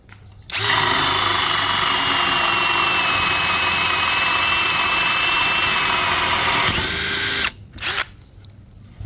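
A DCA ADJZ1203E cordless brushless drill boring with a Forstner bit, running as a loud, high, steady whine at close range for about seven seconds, then stopping, followed by a short second burst.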